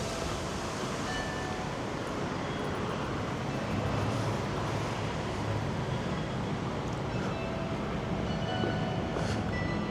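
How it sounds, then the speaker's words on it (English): Train at Cadiz train station, a continuous broad rolling rumble and hiss at moderate distance, steady for the whole stretch with no talk. "you can see this is part of the Cadiz train station"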